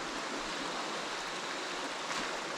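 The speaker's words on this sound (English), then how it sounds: "Flowing water. The Grand Riviere River." The Grand Riviere river in Trinidad flows past the riverbank as an even, continuous rushing hiss, fairly soft and steady throughout, with no one speaking.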